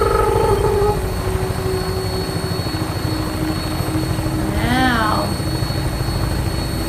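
A vertibird aircraft in Fallout 4 video game, a constant loud rotor drone with rapid chopping beats running throughout, a brief voice near the start and a short whine in the middle.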